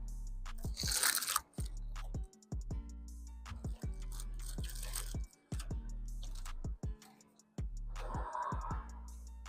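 Crispy onion rings from a Toronto burger spot being bitten and chewed up close, several sharp crunches in separate bursts with chewing between them, loud and clear with no talk.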